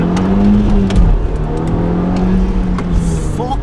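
An Audi S3 8P pulls hard in first gear, a loud close engine drone that rises in pitch, dips briefly at a shift and then climbs again. Faint voices in the cabin are barely audible.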